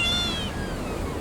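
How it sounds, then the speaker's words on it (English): A house cat gives a single drawn-out meow that starts high and slides downward, loud and close against steady background noise. "That stupid cat is the only family that Ida's got."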